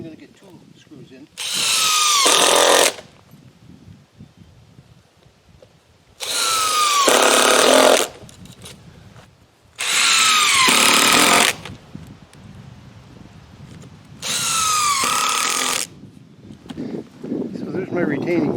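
Power drill driving screws into wooden retaining wall posts, four loud whirring bursts of about two seconds each, separated by quieter pauses with faint background noise.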